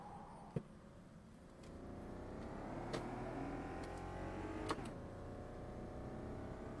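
A sim racing car with a mid-90s F1-style engine climbs steadily in pitch as it accelerates, a thin, high revving whine heard faintly and continuously with a couple of sharp clicks.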